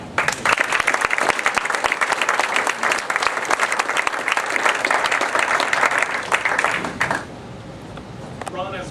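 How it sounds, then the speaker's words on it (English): An audience gives a round of applause at a town brand and website launch in Manning, Iowa: loud, close, crisp clapping that stops abruptly, leaving a quieter room with some talking. "I want a big round of applause for Jim"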